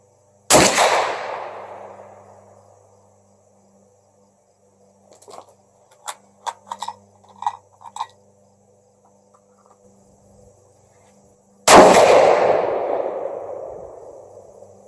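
Two loud, sharp reports from a suppressed Ruger M77 Gunsite Scout rifle in .450 Bushmaster, fired at an outdoor range, each with a long decaying tail, separated by quiet handling clicks and rattles.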